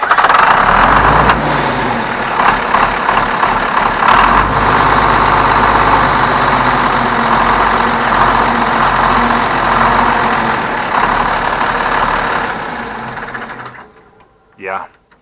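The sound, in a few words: 1977 John Deere 4630 Quad Range tractor engine starting and idling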